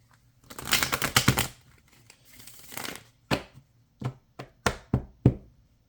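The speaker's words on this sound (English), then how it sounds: "Let me just shuffle these clarifiers." Oracle clarifier cards are shuffled by hand: a dense burst of riffling and crinkling, then a softer rustle and a series of crisp, separate taps and slaps as the deck is squared.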